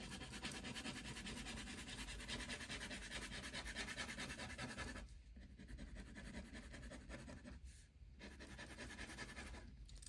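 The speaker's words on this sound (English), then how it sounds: "So I'm gonna just draw the rest of my sequins in like that." A pencil scratches and rubs steadily across paper while drawing sequins onto a dress sketch, very close and faint, with short pauses between strokes.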